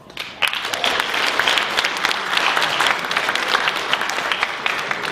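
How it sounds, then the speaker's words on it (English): A debate audience breaks into sustained applause after the results are announced, steady dense clapping filling the room for several seconds with no voices on top. "However, let's give them both a round of applause."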